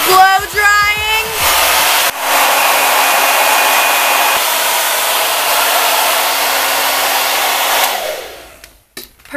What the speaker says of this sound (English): We're just gonna start off with blow drying.